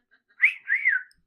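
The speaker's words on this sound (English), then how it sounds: "Can't even whistle that well, but it's whistle time." A person whistles a short two-note tune, a brief rising note then a longer wavering one, alone and fairly quiet in an otherwise silent room.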